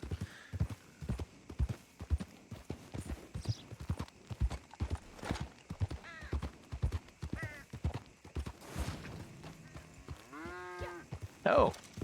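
Horse hooves clip-clop steadily while riding in Red Dead Online, a continuous trotting rhythm at moderate volume, with a person talking over it and some voiced sounds near the end.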